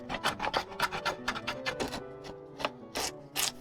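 A slide knife shaves facets on a wooden hatchet handle held in a vise: a quick run of close, rasping scrapes in an uneven rhythm, with a few brighter strokes near the end.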